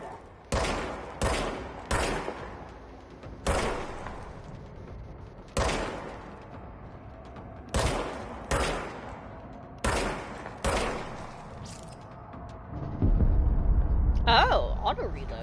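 Shots from the service weapon in the video game Control ring out as single loud reports at irregular intervals, each with a ringing decay. A burst of rapid fire and rumbling noise comes near the end, with a person talking now and then.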